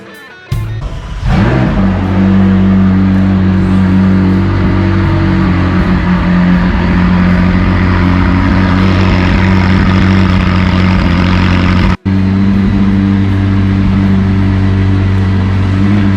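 A McLaren 600LT sports car engine idles with a steady low rumble, loud and close, holding a constant deep drone for several seconds with no voices.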